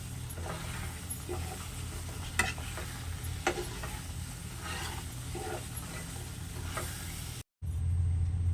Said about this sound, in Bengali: ভেজে রাখা নারকেলটা দেওয়ার পর আমের সাথে নারকেলটাকে ভালোভাবে মিশিয়ে দেবেন।